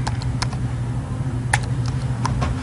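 Someone types a search on a computer keyboard, a run of quick, irregular key clicks close by over a steady low hum, with no talking.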